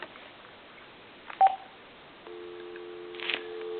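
An AT&T cordless telephone, model SL82418, under repair: a short tone blip, then a steady dial tone begins partway through and holds to the end, close and clean, with a brief burst of noise near the end.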